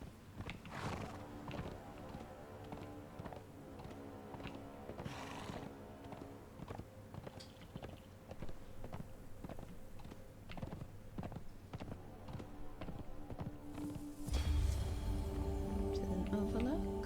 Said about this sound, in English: This should be a safe place to leave the horse.